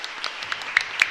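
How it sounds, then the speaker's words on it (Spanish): Scattered hand claps from a parish congregation applauding the priest at a novena to the Virgin of Fátima, a handful of sharp close claps over a faint background, brief and sparse rather than a full ovation. "pido un fuerte y caluroso aplauso"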